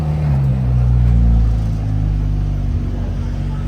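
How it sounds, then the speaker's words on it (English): A Lamborghini-style 765 Spider sports car pulls away, its deep engine rumble swelling briefly then easing as it moves off, loud and close with no talk over it. "And the 765 Spider is leaving."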